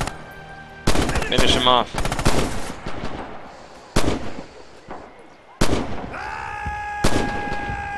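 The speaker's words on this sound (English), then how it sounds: "Enemy fire!" Gunfire in the World War II shooter Red Orchestra 2: Heroes of Stalingrad, loud sharp shots and short bursts spread across the clip with ringing echoes between them. A voice speaks briefly.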